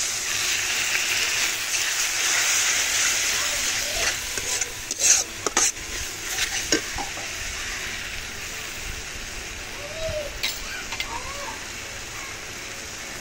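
Spice paste in a pan sizzling and hissing as water is added and stirred in, with repeated scraping and clanking of a spoon against the pan over a continuous bubbling fry.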